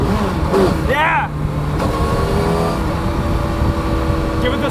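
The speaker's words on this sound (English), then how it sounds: "Give it the smallest blip to downshift." T-Rex RR three-wheeler engine running close by, with a quick rising blip of revs during a downshift followed by a steady idle drone and some road noise.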